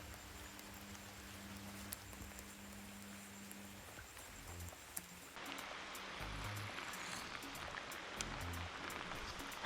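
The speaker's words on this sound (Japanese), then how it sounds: "雨が大きくて本当プロップの音が全然聞こえないね。" Heavy tropical rain pours down on a boat during giant snakehead fishing in Brunei, a faint but constant hiss and patter that shifts slightly louder partway through, with no voices.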